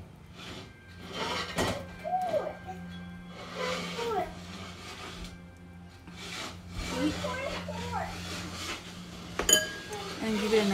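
Strawberry muffin batter sweetened with honey being stirred in a bowl: soft scraping and rubbing of a utensil against the bowl with occasional light clinks, fairly quiet and steady, with a faint electrical hum beneath.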